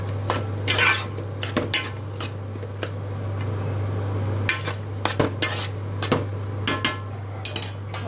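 A utensil stirs tomato curry seasoned with salt and turmeric in a pan, scraping and clinking against the metal with a soft squelch. The strokes fall in irregular bursts over a steady low stove hum, close and clear.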